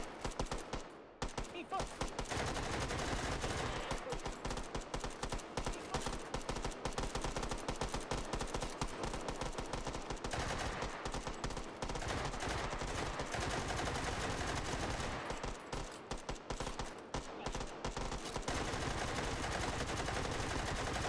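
Rapid, sustained gunfire from a Czech gun fired without its stock in the VR shooter Hot Dogs, Horseshoes & Hand Grenades, loud bursts packed densely across the clip with only brief gaps.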